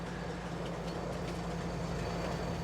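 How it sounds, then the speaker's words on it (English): A train in Farming Simulator 19 rolls into the station at the mill, giving off a steady, even low rumble with faint mechanical rattle throughout and no voices. "The train is just coming into the station for the train station mill."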